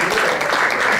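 An audience claps for a guitarist being brought up at a music show, a short, steady burst of moderately loud, dense applause with no gaps.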